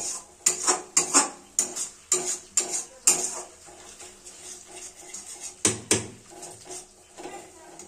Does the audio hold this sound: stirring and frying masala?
yes